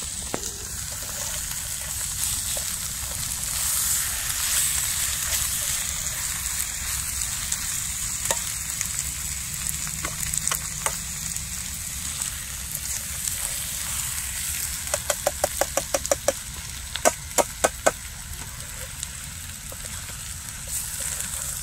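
Chicken liver in a pudina masala fries steadily in a pan, a continuous close sizzle with bursts of sharper crackling and spattering toward the end, no voices over it.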